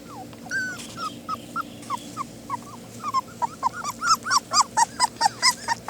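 Young puppies whimper, yip and growl close by, a run of short rising whines that quickens and grows louder toward the end into rapid repeated cries.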